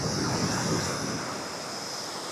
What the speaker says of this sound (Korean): 파도가 오늘 어 보시면 아시겠지만 우와 약하지 않네요